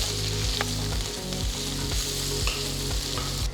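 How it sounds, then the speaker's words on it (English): Thinly sliced onions with curry leaves sauté in a hot pan, a steady close sizzle running throughout with a few scraping stirs and no talking. "Saute the onions till they are nice and transparent."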